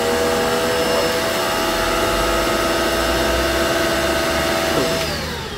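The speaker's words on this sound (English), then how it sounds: "this is just to show you how the Shark agitates the carpet here" Shark vacuum cleaner running with its brush roll agitating carpet, a steady loud motor whine and whirring drone that continues throughout, then eases slightly near the end as it comes off the carpet.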